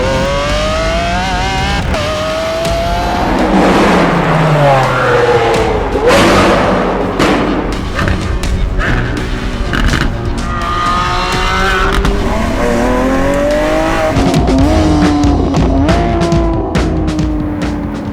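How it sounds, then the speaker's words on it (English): A Lamborghini Aventador SVJ engine revs and surges loudly at close range, rising and falling through gear changes with thumps and brief tire squeal, its strong harmonic whine sweeping up and down throughout. "Hey, I'm driving an SVJ!"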